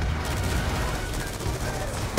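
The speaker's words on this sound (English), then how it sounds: "Taking sniper fire from the catwalk." Gunfire in Call of Duty: Black Ops 2 forms a loud, continuous wash of shots and battle noise across the whole stretch, while a voice talks underneath.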